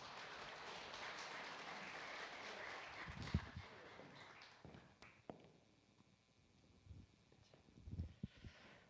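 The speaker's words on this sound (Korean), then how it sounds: "박수로 환영하겠습니다." Fairly faint audience applause at a church officers' training session, a dense patter of many hands clapping that fades toward the end, with a few scattered thumps after it.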